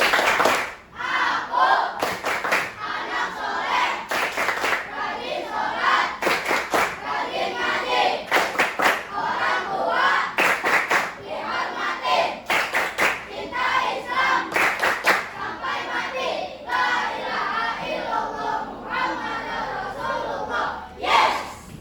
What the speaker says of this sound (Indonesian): kita melakukan tepuk anak soleh dulu ya